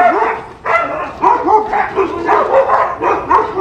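Huskies bark and yip in repeated close, loud bursts, sounding agitated toward each other, one after another with short gaps between them.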